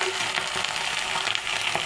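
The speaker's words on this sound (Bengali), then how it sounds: "পেঁয়াজ, রসুন, মরিচগুলো ভাজা হয়ে গেছে।" Steady sizzling of onion, garlic and chilies frying in hot oil, a continuous close crackle with no talking.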